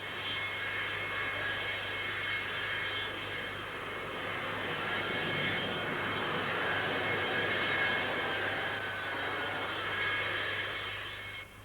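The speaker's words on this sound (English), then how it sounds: "The NA-39, recently named the Buccaneer, means high-speed, low-level striking power for the Navy" An NA-39 Buccaneer naval strike jet flies past at the Farnborough airshow, its engine roar a continuous, fairly distant broadband rush that swells slightly and fades at the end.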